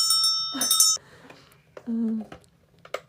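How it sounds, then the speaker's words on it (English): A small bell is rung with a bright metallic ringing at the start that fades within a second, followed by quieter scattered clicks and a voice. "Let me ring this bell."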